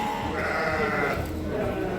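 A five-month-old lamb bleats loudly and steadily at a lamb-judging contest in Issyk-Kul, its cry close and continuous over a dense background of crowd noise.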